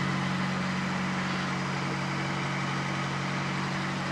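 A fuel-injected Fiat Panda 4x4 Sisley engine running just after a cold start, a steady, fairly loud low hum with a constant drone and no change in revs, heard alone with no voices.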